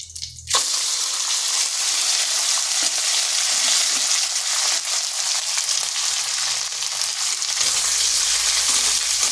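Egg whites hit a pan of hot oil and cumin with a sudden loud sizzle that settles into continuous, crackling frying close by, with no talking.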